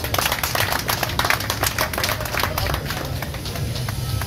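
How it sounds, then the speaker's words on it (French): An audience applauds a clothing collection at the official opening of the BK Création boutique in Angré: dense, continuous clapping from a crowd, close and steady throughout, with some voices mixed in. "Je vais demander qu'on applaudit ta collection, s'il vous plaît."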